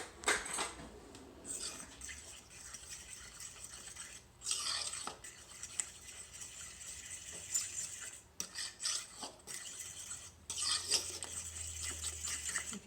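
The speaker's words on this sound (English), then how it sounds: "Now we're just gonna kind of whisk up this slurry." A whisk stirring a wet flour-and-water slurry for a sourdough pre-ferment, giving quick scraping, clinking strokes against the bowl in bursts with short pauses between them, fairly close and moderately quiet.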